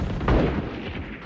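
Gunfire from the tactical shooter Valorant during a competitive match: one punchy gunshot burst with a short boom and tail, loud and close, no talking over it.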